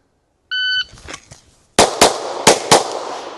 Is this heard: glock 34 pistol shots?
yes